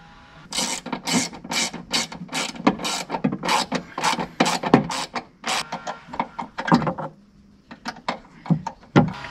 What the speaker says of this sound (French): Maintenant on va remettre les deux vis qui étaient ici